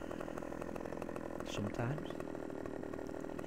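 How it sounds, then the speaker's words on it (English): Chainsaw cutting wood in the Farming Simulator 15 video game, a steady buzzing engine drone throughout, with someone talking over it. "And you can actually chainsaw it down while it's on the back here."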